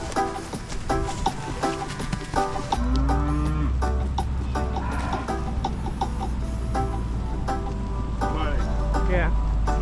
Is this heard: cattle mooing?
yes